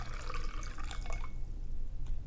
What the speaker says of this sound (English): And now I can easily pour.